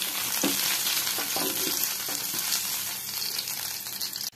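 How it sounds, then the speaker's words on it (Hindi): Green chilli and whole spices spluttering in hot mustard oil in a wok, a dense steady sizzle with a few quick popping crackles early on, close and constant. "कड़ाई रे सोरिष तेल को गरम करबा, सेथिरे लंका और फुटण को फुटाइबा"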